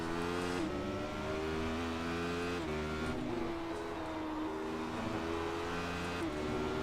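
Radical race car in the iRacing sim racing game, its engine droning loud and steady with rising and falling pitch as it shifts and revs through corners, running continuously with no talk.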